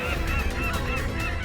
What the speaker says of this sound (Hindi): पक्षियों का समूचा झुंड आ रहा है।